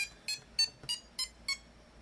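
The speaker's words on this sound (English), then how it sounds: "it's a active buzzer module" Five short, sharp electronic beeps sound in quick, even succession, close and clear with silence between them.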